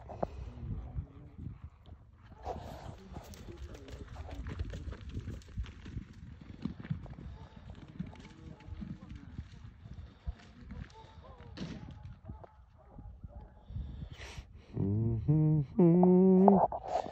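A stud horse's hooves clop and thud unevenly on the ground, with people talking nearby; the sound grows louder and busier near the end.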